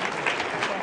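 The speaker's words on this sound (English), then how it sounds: "Give her a round of applause." An audience claps steadily, a dense wash of applause at close range with no pauses.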